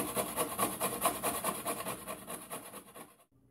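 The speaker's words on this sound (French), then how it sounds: "Et maintenant, je vais commencer à râper." Carrot and cabbage being grated by hand, a steady run of rapid rasping strokes that carries on evenly for about three seconds before stopping, close up with no talking.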